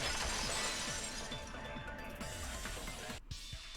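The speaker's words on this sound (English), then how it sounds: "If it wasn't the window, then what broke to make that sound? A vase." A vase shattering in the video game Danganronpa 2, a loud close crash of breaking ceramic that spills into scattered tinkling fragments settling over a few seconds.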